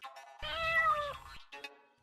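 A single cat meows, a clear drawn-out cry rising and falling in pitch, followed by a shorter, softer second call, close and alone against silence.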